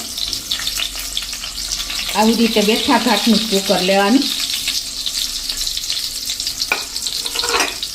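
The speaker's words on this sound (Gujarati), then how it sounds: "આપણે એને 2 થી 3 મિનિટ તેલમાં જ કૂક કરી લેશું" Continuous sizzling of stuffed eggplant pieces frying in oil, with a person speaking briefly over it and a faint clink near the end.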